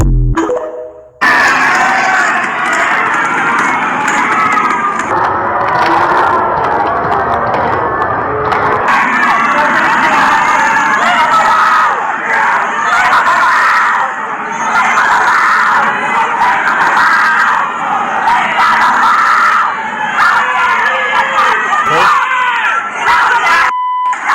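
A crowd yells and screams at a woman, loud continuous shouting and shrieking from many voices that fills the whole stretch without a break.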